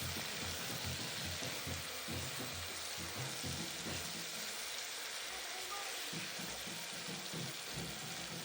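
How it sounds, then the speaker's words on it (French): Marinated meat sears in hot oil in a pot, giving a steady, dense sizzle like light rain that runs unbroken throughout, with a voice faintly underneath. "Quand l'huile est chaude, je vais rajouter la viande marinée et je vais la faire saisir."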